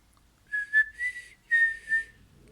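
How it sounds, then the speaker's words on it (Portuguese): Soft, clear whistling from a person walking slowly down cellar stairs, a short tune in several separate phrases, close and alone with no talk. "eu assobio baixinho enquanto ponho os pés devagarinho nas escadas"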